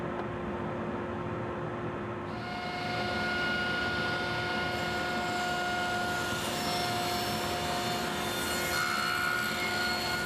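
A table saw fitted with a tapering jig rips a tapered wooden leg, a steady, loud cutting whine with a rasping edge that holds for about ten seconds and brightens slightly partway through.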